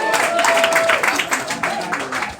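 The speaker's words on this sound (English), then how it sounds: "Give yourselves a round of applause for supporting Live Comedy." Comedy club audience at a live stand-up show applauding, a dense burst of many hands clapping with some crowd noise, close and loud, trailing off after a couple of seconds.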